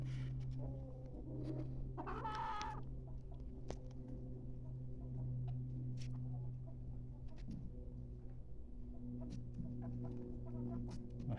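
Chickens and roosters clucking in a coop, a short burst of rooster calls early on over a steady low hum, with scattered pecks and rustles.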